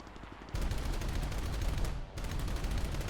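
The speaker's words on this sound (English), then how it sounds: "So I open fire" Su-11 jet fighter's aircraft guns in a video game fire in a loud, sustained rapid burst, pause briefly, then resume with another continuous stream of gunfire.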